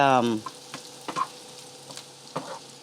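Onions sizzle in a hot pan for a patty melt and get stirred, a steady close frying hiss broken by a few soft scraping strokes of the utensil.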